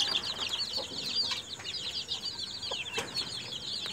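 Many 10-day-old chicks cheeping constantly while brooding at night, a dense chorus of high, thin peeps close by, with a few louder chirps standing out.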